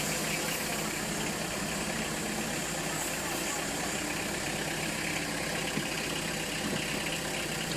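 An engine from 2002 idles steadily and close by, a constant throbbing rumble throughout, with muffled voices occasionally underneath.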